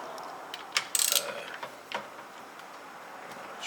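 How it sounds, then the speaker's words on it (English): A 19mm socket ratchet loosens the steering wheel bolt on a Lexus LS430, with a few quiet metallic clicks and a short rattling burst, close but faint, with no talk. "you're going to want to pretty much get a 19 socket and take off the steering wheel bolt"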